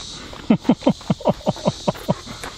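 A dog being fed snake gourd in a home garden pants close by in a quick, regular rhythm of about ten short breaths, fairly soft and with no talk over it.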